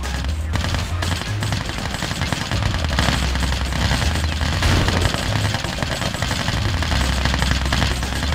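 Sustained infantry rifle and machine-gun fire at a derelict American Grizzly battle tank in Command and Conquer Red Alert 2, a dense, continuous rattle of loud gunfire running throughout without a break, over a low rumbling backdrop.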